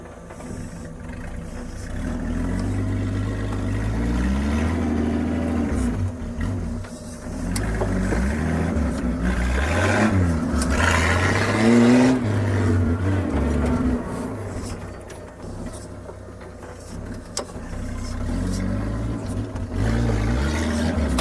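A Jeep Willys engine runs as the vehicle is moved, a low steady mechanical drone with slight rises and dips in pitch through the stretch, fairly loud and close, with no talk over it.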